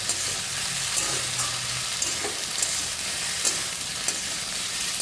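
Ginger paste fries in oil in a pan for a Kali Puja labra, a steady close hiss and sizzle with soft periodic stirring scrapes.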